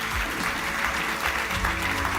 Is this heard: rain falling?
no